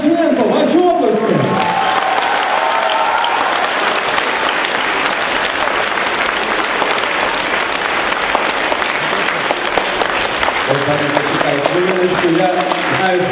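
Sustained audience applause at a festive spring concert, filling the hall evenly and loud throughout, with brief musical tones near the start and end beneath the clapping.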